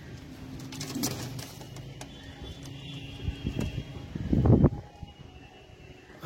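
A pair of adult Poira pigeons, male and female, cooing close by in soft low throaty calls, with a louder rolling coo near the end and light background rustle.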